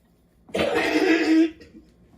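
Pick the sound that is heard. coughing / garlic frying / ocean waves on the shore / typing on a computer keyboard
coughing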